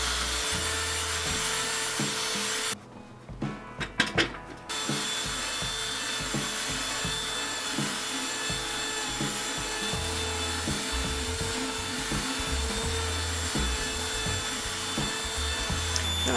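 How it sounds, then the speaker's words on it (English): Belt sander smoothing the wood of a homemade cajon drum, a continuous rough grinding hum that drops out briefly with a few knocks before resuming steadily. "We'll do a little bit of belt sanding to smooth it out."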